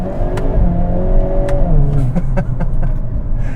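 A 2022 Hyundai Kona N, 2.0 turbo 280 hp with dual-clutch gearbox, revs hard and blips through downshifts, the pitch sweeping down and back up, loud and close.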